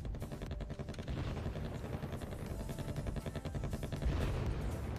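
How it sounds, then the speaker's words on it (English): A cluster bomb strike hits a helicopter in the strategy game Wargame Red Dragon, with a rapid crackling string of small explosions over a constant helicopter rotor drone, loud and dense from start to finish. "Hey, I got a helicopter for cluster."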